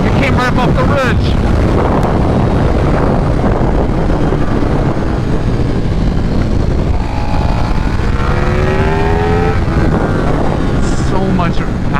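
A 2024 KTM 1390 Super Duke R Evo accelerates hard, its rising engine note half buried under heavy wind buffeting on the microphone, with a rider speaking at times.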